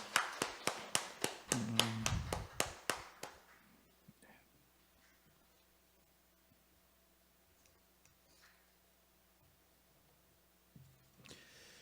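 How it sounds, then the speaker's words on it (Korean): Church congregation clapping in a brisk burst of claps lasting a few seconds, then fading into a quiet room with faint scattered taps and a low hum. "하나님께 영광의 박수를 드리겠습니다."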